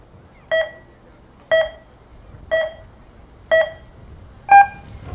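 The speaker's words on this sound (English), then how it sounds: "Official start tone sequence." Five evenly spaced electronic start beeps, about one per second, with the last one higher and longer, sound out over faint outdoor wind before a women's timbersports boom run in Lehi, Utah.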